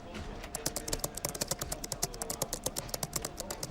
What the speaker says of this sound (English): The rapid clicking of the keyboard and mouse heightened the tension for the detectives